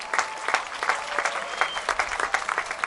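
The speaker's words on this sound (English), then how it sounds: "Nice round of applause for Art, everybody." Festival crowd at the Maui Arts and Cultural Center applauding steadily, dense overlapping claps at close to moderate distance with no voices on top.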